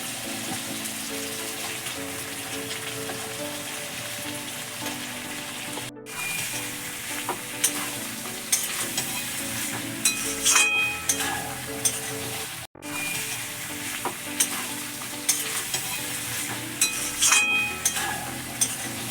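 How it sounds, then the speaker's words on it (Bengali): Pre-fried raw jackfruit and potatoes sizzling loudly in a spice masala, with a continuous close crackle broken by the scrape and clatter of repeated stirring and a brief pause midway. "এখন দিয়ে দিচ্ছি ভেজে রাখা এঁচড় আর আলু"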